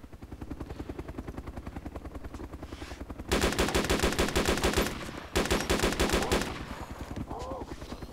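Automatic gunfire in the DayZ survival game, fired at another player in two loud sustained bursts over a helicopter-like engine drone, the second burst following a short gap.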